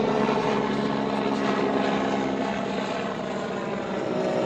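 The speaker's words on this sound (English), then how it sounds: "There's a Life Flight copter going over." A Life Flight medical helicopter passes overhead, its steady rotor and engine drone filling the scene at a constant, fairly loud level with no voices.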